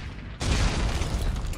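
A single explosive weapon blast in the sci-fi shooter Dead Space 3, a sudden loud boom after a short quiet moment, followed by a rumbling decay that stays heavy to the end.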